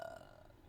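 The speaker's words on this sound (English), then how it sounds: "I'm gonna burp." One short, faint, throaty burp from a person, heard alone and fairly quiet.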